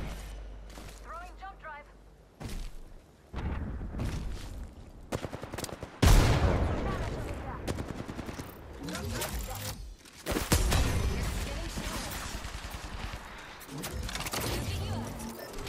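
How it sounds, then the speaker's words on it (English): Bursts of gunfire from another squad in Apex Legends, crackling at mid distance in uneven volleys, mixed with game effects and a voice talking over it. "There's another team shooting from over here"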